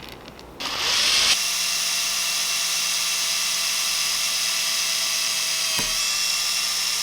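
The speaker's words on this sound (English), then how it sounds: "I'm gonna drill it while the thing is flat, and I'm gonna clamp it to something while it gets drilled." Power drill boring holes through a vintage crawfish fishing lure clamped flat to a workbench, a steady loud whine running continuously after a short start, with a brief click near the end.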